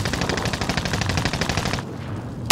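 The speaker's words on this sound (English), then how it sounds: "So much shooting, guys." Rapid automatic gunfire in Call of Duty: Modern Warfare, a dense rattling burst of shots for nearly two seconds, then a brief lull and one sharp loud report at the end, with no talking.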